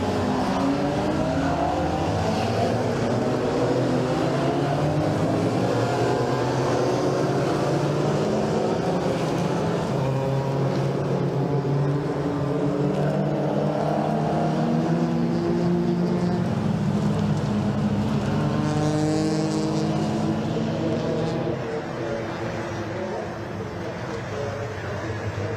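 Race cars heading off on a rolling lap at Brands Hatch, engines droning and revving continuously as a pack goes by, loud and steady throughout, with a commentator talking over the noise.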